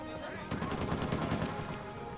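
Video game gunfire in a rapid, steady burst of shots lasting a couple of seconds, loud and close.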